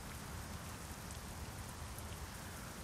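Steady rain in Euro Truck Simulator 2 hisses evenly as a dense, unbroken wash of drops on surfaces, fairly quiet with no voices or other sounds.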